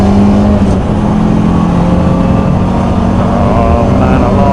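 A Lancia Delta racing car at Donington circuit roars loudly and steadily under acceleration, a dense close engine drone with wind and road noise filling the whole clip.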